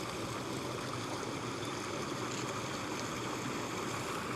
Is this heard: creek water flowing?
yes